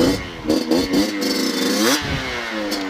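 A 50cc MBK X-Limit moped engine runs nearby, its mid-pitched two-stroke note rising and falling in several quick revs, with a drawn-out rev toward the end.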